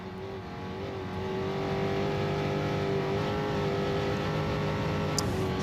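In-car engine noise from a race vehicle during the San Felipe 250 off-road desert race, a loud steady drone that builds slightly at the start and then holds constant, close and without talk.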